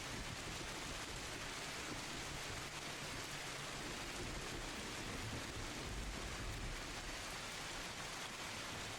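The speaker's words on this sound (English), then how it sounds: "The weather, as is normal here, has a light drizzle to it" Steady, even hiss of light drizzle falling as continuous rain ambience, faint and unbroken with no voices.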